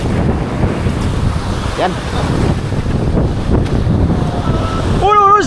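Rough sea off Surigao churns under strong wind, heard from a small boat as a loud continuous roar and rumble of wind buffeting and surging water. A voice calls out briefly near the end.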